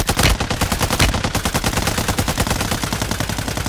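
Rapid automatic gunfire in a video game match: a steady, dense stream of close, loud shots with a few heavier blasts at the start, and no talk over it.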